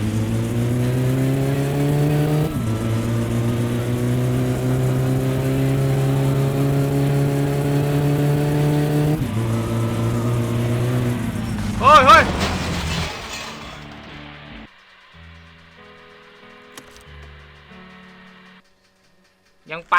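A car engine in the video game My Summer Car revs and drones loudly as the car speeds along, steady then shifting pitch, before cutting out into a near-silent stretch with a few scattered clunks.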